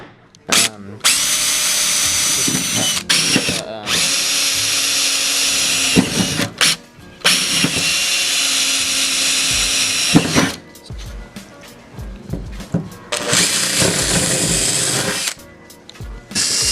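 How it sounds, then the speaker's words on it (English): A power drill bores holes into a part on a Subaru BRZ build, loud whining bursts of several seconds each separated by brief pauses and clicks, with occasional talk between runs. "so we know where to drill into."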